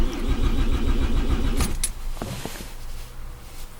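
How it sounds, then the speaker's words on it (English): A car's starter cranks the engine for about a second and a half with a fast, rhythmic chugging pulse, then stops abruptly, leaving a few clicks and a low residual hum. "Let me start the car for cranking, let's say for 2-3 seconds"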